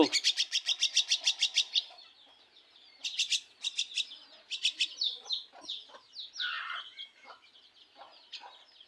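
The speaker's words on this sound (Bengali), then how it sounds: "এই যে আমরা এখন মিঠুকে খাওয়াবো এইভাবে আমরা ফিট খাওয়াচ্ছি মিঠু" A myna chick chirps loudly and insistently while being hand-fed, starting with a rapid run of shrill repeated cheeps, then broken bursts of begging calls close to the mic.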